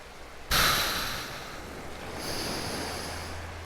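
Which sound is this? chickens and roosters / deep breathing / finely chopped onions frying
deep breathing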